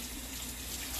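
Water runs steadily from a tap, close and continuous like a sink filling, as it is added to taco meat and taco seasoning being cooked. The rush keeps an even level through the whole moment, and no one speaks.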